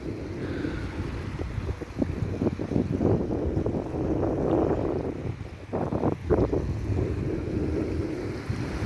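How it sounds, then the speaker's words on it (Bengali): On the Tetulia river in wintry weather, a low, continuous roar of rushing water and wind fills the air, swelling in gusts with buffeting wind noise on the microphone. "স্রোতের শব্দ শুনুন, পানির স্রোতের শব্দ, গর্জন"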